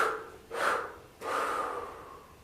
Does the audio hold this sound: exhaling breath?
yes